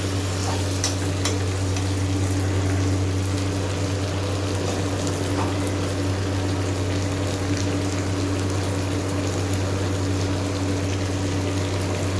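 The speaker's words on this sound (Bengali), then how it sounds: "গরম জল দিয়ে দেব।" Hot water goes into a pan of sizzling chicken and potato curry, a loud continuous frying hiss with bubbling, steady and close, over a low constant hum.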